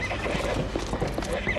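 Horses neigh amid clopping hooves, blended into a dense, steady wash of noise over a short stretch with no voices.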